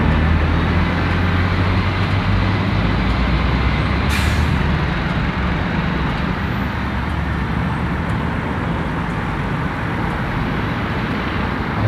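A Dutch lorry rumbles steadily past on the road, loud and close, with a hiss of air brakes among continuous traffic noise.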